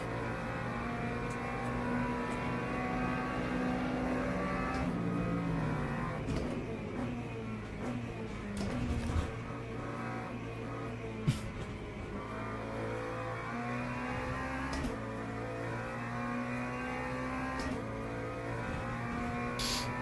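McLaren race car engine in Le Mans Ultimate, droning loud and steady for the whole stretch with gear shifts and revs rising and falling, alone with no talk.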